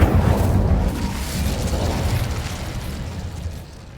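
The Incendio fire spell cast in Hogwarts Legacy, a video game, produces a sustained, loud fiery roar with a rumbling, explosive whoosh that slowly fades over several seconds.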